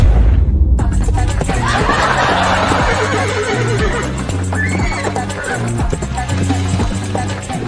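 Loud horse neighing and whinnying rings out over a steady clip-clop of hooves and a busy mix of comedic music and effects in a chase scene, continuing for several seconds.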